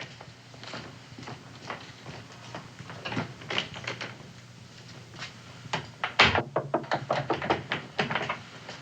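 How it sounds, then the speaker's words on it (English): Knocking on a door in an old television western drama, a few sharp raps heard amid background room noise and rustling, with one louder thump standing out near the end. "Answer the door, Sally."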